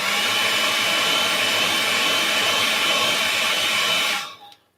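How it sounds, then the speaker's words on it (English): A hair dryer blows loud and steady over wet paint on paper, a continuous whooshing roar that cuts off and winds down near the end. "Just dry it off with a hairdryer if you've got one."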